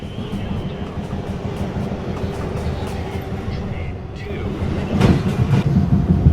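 An MTA R262 subway train on the 1 line near 215th Street in Manhattan rumbles steadily and loudly at close range, with a rising surge of wheel and rail noise toward the end.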